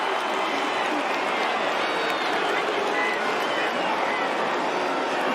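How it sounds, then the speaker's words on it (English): Stadium crowd at a college football game between Troy and Clemson, a dense sustained roar of many voices with a low booing drone, loud and steady throughout without a break. "And the crowd replaces the silence with boos"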